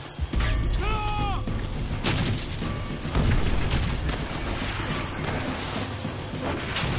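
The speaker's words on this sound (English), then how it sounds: "Grenade over that." A grenade blast in the World War II shooter Call of Duty: World at War, a heavy boom among clattering battle noise, with further thuds and crashes rolling through a dense, loud combat mix.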